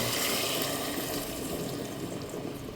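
Pork marinade pours into a pressure cooker in a continuous, soft liquid splash and rush, faint and steady throughout.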